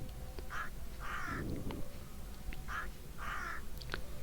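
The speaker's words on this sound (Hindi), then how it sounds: "आपने आवाज़ पहचान ली होगी, कौवे की आवाज़ है" A crow caws in two pairs of harsh calls, close and clear, with a short rustling burst between them and no talk.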